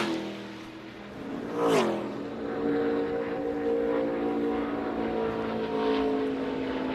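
Racing trucks at the Heart of America 200 roar past on track during practice and qualifying, one sweeping by with a sharp pitch drop and others droning steadily at high revs nearby.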